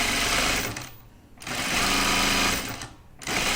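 A sewing machine stitches a 1/4 inch seam on a project bag in two loud bursts of rapid, even mechanical whirring, separated by short pauses.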